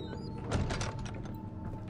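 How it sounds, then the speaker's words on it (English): A door closes in the horror video game Amnesia: The Dark Descent, a dull thunk followed by a short rattling creak against a low ambient hum. "Close this door."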